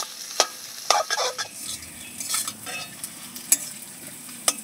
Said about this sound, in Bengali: এভাবে করে নাড়বো আর খুন্তি দিয়ে কিন্তু এইভাবে করে পিস পিস করে দেবো